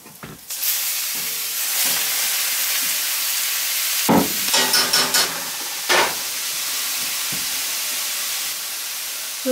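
Chopped wild yard and garden weed greens hit a hot pan with a loud, steady sizzle and hiss, broken by a few sharp bursts of clattering and stirring.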